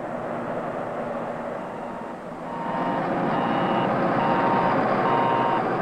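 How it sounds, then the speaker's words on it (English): A vehicle's backup alarm beeps in a steady repeating pattern over a low engine hum, growing louder partway through. "Backup alarms are another effective means of preventing backing accidents."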